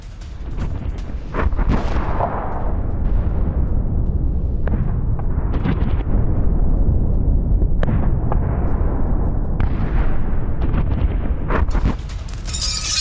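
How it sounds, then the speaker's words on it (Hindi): Heavy, rumbling blasts and sharp cracks at a Russian oil refinery under attack, repeated irregularly over a continuous deep roar of burning, loud and fairly distant with no voices. "तेज धमाकों के बाद रिफाइनरी में आग लग गई है।"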